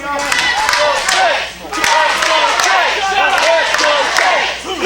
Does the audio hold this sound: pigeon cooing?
no